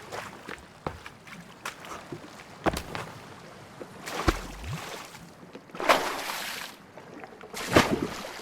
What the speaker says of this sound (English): Let me go to the island. My little boat.